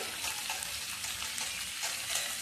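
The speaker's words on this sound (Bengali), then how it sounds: "পেঁয়াজগুলোকে আমি পাতলা পাতলা করে কেটে নিয়েছি। নেড়ে নিচ্ছি।" Thinly sliced onions frying with salt while being stirred, a soft, fairly quiet broadband sizzle with light irregular scraping, no voices.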